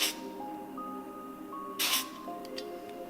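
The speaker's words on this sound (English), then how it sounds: "the first thing I'm going to do is try the 3M General Purpose Adhesive Remover" 3M General Purpose Adhesive Remover is sprayed onto car paint, a short hissing aerosol burst in the middle of a quiet, faintly whining background, with a couple of soft ticks after.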